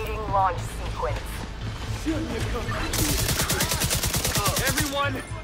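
Rocket launch in a combat video game, a rapid burst of sharp, rhythmic blasts mixed with crashing impacts, loud and close, with game dialogue and music running underneath.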